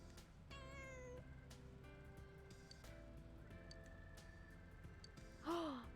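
A cat meows a few times, with a drawn-out call near the start and shorter calls later. The meows sit quietly over a steady low hum, and a sharp breathy gasp rises near the end.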